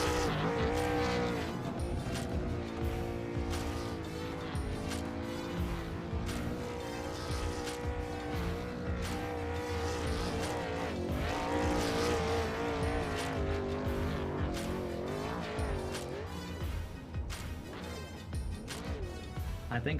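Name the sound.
super late model race car doing celebration donuts, tires squealing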